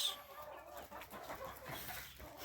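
Chickens kept in a greenhouse cluck and chatter softly and continuously, a faint, busy flock murmur without speech.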